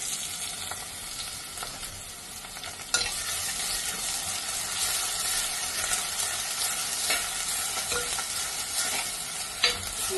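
Ginger and garlic stir-fry in hot oil over softened onions for a shrimp roast. A steady sizzle runs under repeated scraping strokes of a spoon, fairly close, with no voices.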